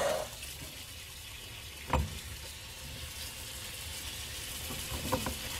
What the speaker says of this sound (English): And then I just run some water over those beans.